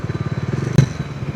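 Motorcycle engine running steadily on a highway during a road trip from Coimbatore to Varkala, Kerala. The close, loud, rhythmic engine throb includes a brief thump partway through, and no one speaks.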